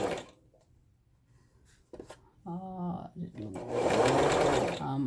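A Brother XL-2600i sewing machine runs a finishing stitch in short bursts: faint whirring early, then a rhythmic mechanical stitching run and a louder, sustained burst at the end, close and clear.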